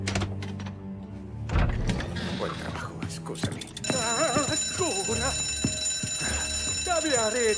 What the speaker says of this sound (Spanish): ¡Esto, la alarma!